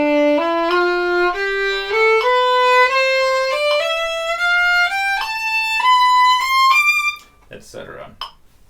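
A violin plays a rising scale exercise in a slur variation, with the first slur split into separate notes and the second kept slurred; clear, close, sustained bowed notes climb steadily, then end in a few brief, faint handling noises.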